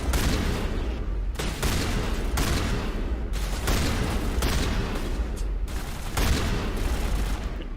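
Shotgun fire from Mass Effect 1 combat against a Krogan, several loud heavy blasts in quick succession over a constant dense battle din, with no gaps of quiet.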